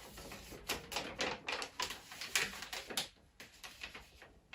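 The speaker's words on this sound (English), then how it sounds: "Peel the tape off." Adhesive tape is peeled off for sealing handmade wrapping paper on a Mother's Day gift, giving a run of quiet, close, rhythmic ripping strips and clicks with no talking.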